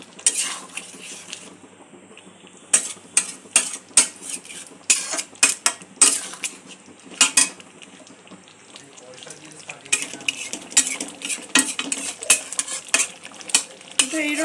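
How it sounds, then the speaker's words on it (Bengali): Paneer gravy stirred in a pan with a metal utensil, scraping and clinking in irregular bursts over a low simmering sizzle, close and fairly loud, pausing briefly before resuming. "নাড়াচাড়া করে নিয়ে"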